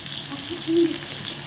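Green chillies fry in sesame oil for an eggplant stir-fry, giving a short hissing sizzle with a faint hum, close up and moderately loud.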